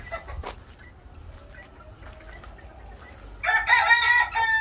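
A purebred rooster gives a single loud crow near the end, after quieter clucks and soft rustling from a backyard flock of breed chickens.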